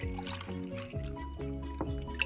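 Two pints of milk pouring into a pot, a steady close liquid stream with a gurgling, trickling sound and a few small drips near the end.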